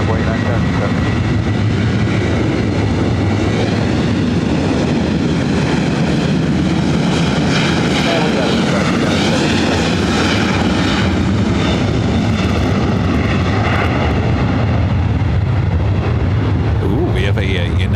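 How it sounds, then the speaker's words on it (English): A United Boeing 757-300 jet at LAX airport, lining up for a north-side takeoff. Loud, continuous, roaring engine noise persists for the whole stretch, with shifting whine tones and rumble, and voices talking underneath. "of a United 757-300 heading up here for north side takeoff"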